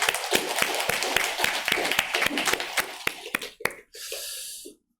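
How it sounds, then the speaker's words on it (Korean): Church congregation claps in a quick, fairly even patter for almost four seconds, the individual claps distinct and rather soft, before the applause trails off into a faint hiss. "우리 하나님께 감사와 영광의 박수를 올려드리겠습니다."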